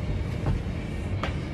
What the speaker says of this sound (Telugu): ఈ జర్మన్ ట్రైన్